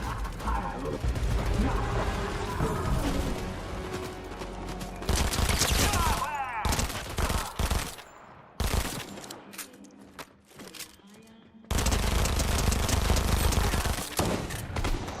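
Rapid gunfire bursts from the video game Fortnite crackle through a dense, loud in-game mix, with short pauses between volleys and a voice sometimes talking over the action.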